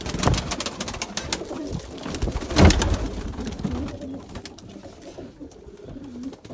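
Pigeons coo close by, soft repeated throaty calls over rustling and fluttering.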